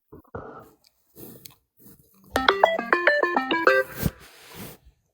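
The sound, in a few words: phone ringing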